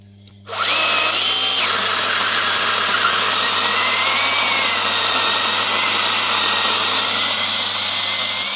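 A Bosch CSM 1815 cordless 18 V mini chainsaw starts up and cuts through a small cherry branch, a loud, steady high-pitched motor whine that holds close and continuous for the full length without talk.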